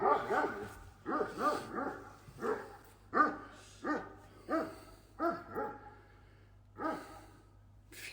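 A dog barks repeatedly in a steady rhythm, about a dozen short, breathy barks spaced evenly, close by over a low background hum.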